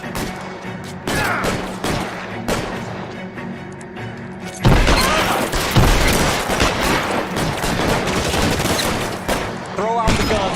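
Rapid bursts of gunfire ring out in the video game LA Noire, sparse at first and then a dense, loud volley of repeated shots, with a voice speaking now and then between them.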